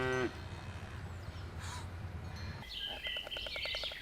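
A cow lows briefly at the start by a river in Croatia, then a steady wash of outdoor noise follows, with a bird calling near the end.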